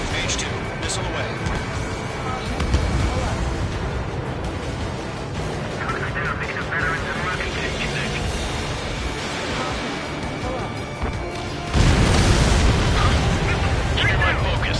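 In Ace Combat 7 combat, a missile blast lands as a deep rumbling boom over a constant roar of jet noise, with a heavier surge near the end while radio voices talk over the action.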